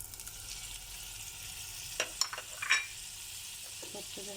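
Butter and oil melting with coarsely crushed garlic in a pan, a soft steady sizzle under a few sharp clinks and scrapes of a spoon stirring, close by.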